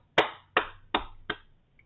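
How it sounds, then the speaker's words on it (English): Four crisp, evenly spaced claps from a soundboard effect, close and clean against near silence, each with a quick decay. "You need some goddamn claps, ma'am."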